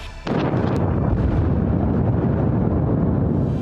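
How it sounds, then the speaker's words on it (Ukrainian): A sudden loud explosion on the Crimean Bridge bursts out and rolls into a sustained, heavy rumbling roar that fills the clip without fading. "Вибух зруйнував кілька прольотів автомобільної частини переправи"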